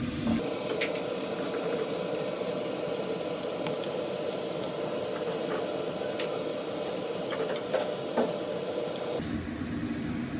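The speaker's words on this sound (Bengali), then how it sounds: "বেরেস্তার জন্য ভাজতেছিলাম সেটি প্রায় শেষের দিকে" Sliced onions fry in oil in a pan for beresta, a crisp fried-onion topping, giving a steady, dense sizzle that holds evenly and then drops away near the end, with a few light clinks and no speech.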